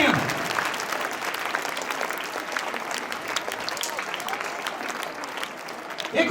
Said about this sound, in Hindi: आप खड़े होकर तालियां बजाकर इसका स्वागत कीजिए।